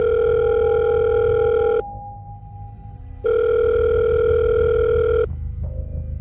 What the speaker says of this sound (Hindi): पॉकेट में रखा उसका फ़ोन दोबारा बजा।